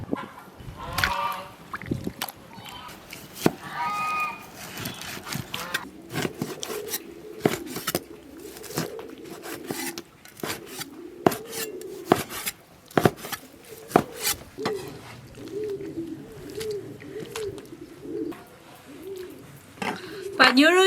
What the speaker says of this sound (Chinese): 牛肉已经泡了几个小时了，血水泡尽了，现在切的煮上。